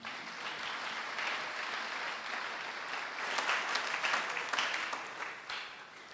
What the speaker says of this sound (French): On peut acclamer Joseph.